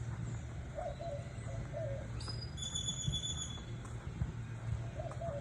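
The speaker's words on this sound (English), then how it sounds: "Out here, the different birds." Bird calls outdoors at the Riu Guanacaste resort in Costa Rica: several soft cooing phrases and a higher chirping call rise over steady background hum and ambient outdoor noise, fairly distant and moderate in level.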